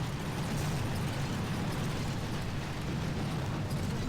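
An artillery barrage in the mobile strategy game Boom Beach makes a dense, continuous rumble of explosions at a steady level, with no distinct separate blasts standing out.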